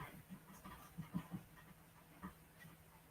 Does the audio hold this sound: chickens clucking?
no